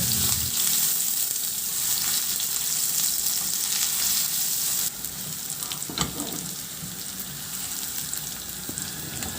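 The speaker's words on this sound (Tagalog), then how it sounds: "Magpainit na muna ako ng mantika sa kawali at igisa ko na yung bawang at luya." Garlic and ginger sautéing in hot oil in a kawali, a loud, close, continuous frying sizzle with occasional stirring scrapes; the hiss drops slightly partway through and continues with a sharp clink, no talking.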